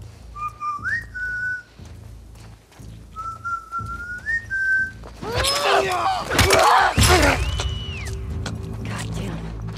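A character in The Last of Us Part II whistles short rising two-note calls twice, fairly close, followed by a burst of crashing, shattering impacts and a lingering tonal whine.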